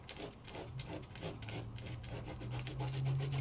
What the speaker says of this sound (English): I'm going to do a little burnish, burnish, burnish, just with my finger.